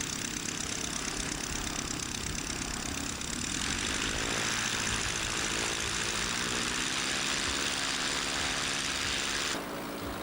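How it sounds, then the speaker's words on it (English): An Aerosport Scamp light aircraft's propeller engine runs close by during taxi and engine checks, a loud steady drone that rises in pitch and intensity partway through before settling. "Taxi out, and turn the engine on."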